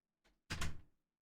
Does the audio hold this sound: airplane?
no